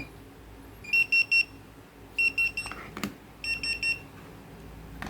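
A TD157s restaurant pager, not yet paired, beeps in three bright bursts of rapid repeated tones with short gaps between them, loud and close over a quiet room.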